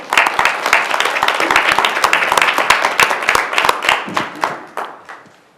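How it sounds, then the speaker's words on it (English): Audience at a Westland city council meeting applauds an honoree, with close, crisp individual claps forming a lively patter that holds steady and then tapers off near the end. "How about a big round of applause for Emily McIntyre?"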